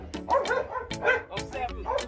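Seven-week-old pit bull puppies yip and whimper in quick, close bursts, several high-pitched little barks overlapping in rapid succession.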